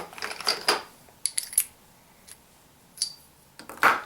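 .30-06 brass rifle cases dropped one by one into a metal case gauge tool, making sharp bright metallic clinks in small clusters separated by short pauses, close and fairly quiet.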